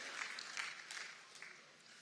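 An audience at a university event applauds for Jacksonville, North Carolina, in a steady wash of distant clapping that lasts a couple of seconds and fades slightly.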